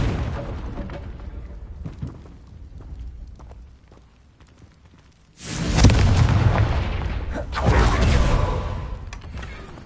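A Confringo blasting spell goes off in Hogwarts Legacy, the quiet rumbling scene giving way to a loud, sustained burst of explosive roar with a second surge of blast noise shortly after, no voices present.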